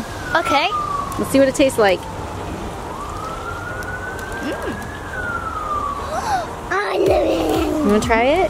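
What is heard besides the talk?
ambulance siren in the background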